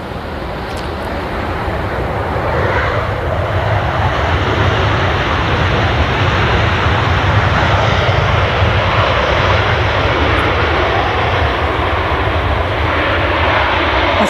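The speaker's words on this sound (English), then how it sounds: "That's Jet 737 from Athens" Jet2 Boeing 737 arriving from Athens at Manchester Airport, a loud, sustained jet engine roar that builds slightly and holds steady as the plane passes fairly close.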